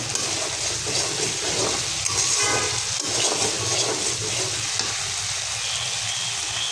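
Vegetables frying in oil with ground ginger, garlic, dried chili and cumin paste, giving a steady, loud, close sizzle that holds without a break and carries no speech.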